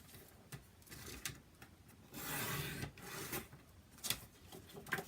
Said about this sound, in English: Then my trimmer. And I'm going to cut this at 5 1/2.